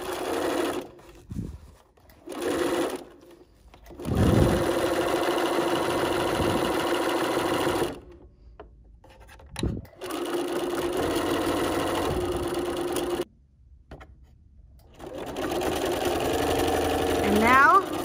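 A sewing machine runs in several bursts while stitching the final seam of a Bee's Knees storage box, its steady motor whir starting and stopping with short pauses, close and fairly loud, with a voice talking between runs.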